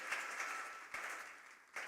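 A church congregation applauds in a steady wash of clapping, with a few sharper bursts standing out as the applause carries on at moderate, somewhat distant volume.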